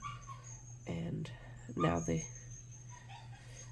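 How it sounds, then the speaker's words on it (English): Household dogs whine indoors just after coming in from the backyard, with two high, wavering bursts of whimpering over a low steady hum. Someone speaks quietly in the background. "I'm so sorry about the dogs whining."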